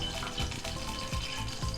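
Hot refined oil sizzles and crackles steadily in a pan while tempering spices for sambar, with a dense, bubbling hiss throughout.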